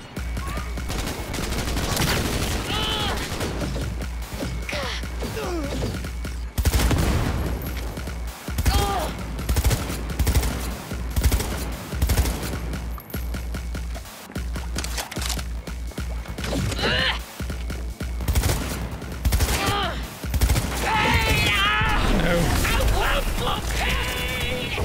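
Combat in Cyberpunk 2077, with loud bursts of automatic gunfire and single shots crackling in rapid clusters over about twenty-five seconds, mixed with shouting voices and game sounds.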